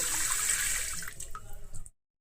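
Tap water runs steadily into a sink while prawns are washed, a broad bright splashing rush that flickers with a few drips before it cuts off abruptly near the end.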